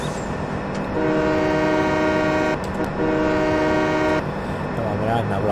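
A train horn sounds in the video game Farming Simulator 17, two long loud sustained blasts over a steady rumbling engine, close and dominant.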